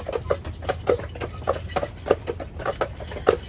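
Horses walk uphill on a trail in Stanley Park, their hooves clip-clopping in a steady, close rhythm of sharp repeated strikes, with no one talking.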